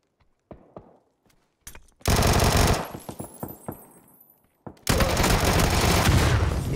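Submachine-gun fire in PUBG comes in two long, loud automatic bursts, each several seconds of rapid shots, broken up by quieter footsteps and scattered thuds in between.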